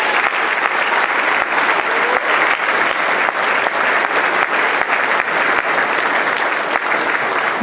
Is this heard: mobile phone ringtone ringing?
no